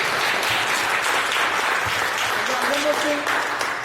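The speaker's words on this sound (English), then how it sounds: "let's give a good round of applause for these candidates here" An audience at a chamber of commerce candidate forum gives a round of applause for the candidates, steady moderately loud clapping throughout with faint voices beneath.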